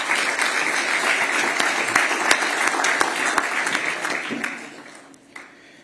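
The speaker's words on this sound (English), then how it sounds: "I think we should have a round of applause for the chair." A conference audience gives a sustained round of applause for a board chair at a South African petroleum company event, steady and fairly loud before tapering off near the end.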